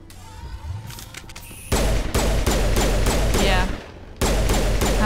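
Pistol shots fire in the Mass Effect Legendary Edition video game as rapid, loud bursts of gunfire with heavy booming impacts, broken by short pauses, over background game ambience.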